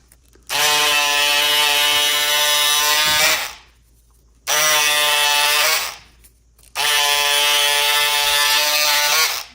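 VLOXO Y4008 cordless electric scissors cut through leather along a circle: three sustained, close motor buzzes of about three seconds each, separated by short pauses, with no talk.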